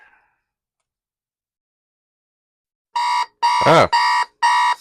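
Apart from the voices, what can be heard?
alarm sounding on X-10 Radio Shack alarm clock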